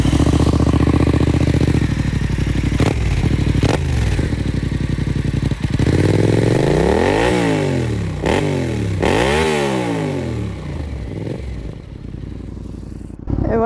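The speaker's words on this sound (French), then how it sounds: "sa ligne d'échappement, ligne complète X-Race, qui fait un très joli bruit" 2017 Yamaha MT-07 motorcycle fitted with a full IXRACE exhaust system, running close by: a loud, throaty idle broken by several sharp throttle blips that rise and fall in pitch, then settling back to a lumpy idle.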